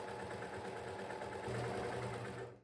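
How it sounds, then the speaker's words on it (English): An overlocker serges the fraying edges of Duchess satin fabric, a steady close mechanical whir running continuously and briefly rising in pitch before stopping at the end. "I'm also going to overlock the sides because Duchess satin really likes to fray"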